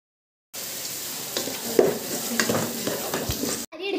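Tomatoes are stirred and fried in a chilli and fennel spice paste for Malabar-style prawn biryani, with a steady sizzle and scraping spoon strokes that run continuously with no voices.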